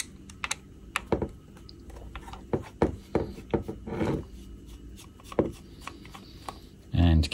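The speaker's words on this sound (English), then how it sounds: "So we're gonna undo these screws." Screws being undone on a Blackmagic Pocket Cinema Camera during a teardown: a run of small, close, irregular ticks and clicks, a louder scrape or thud at the very end.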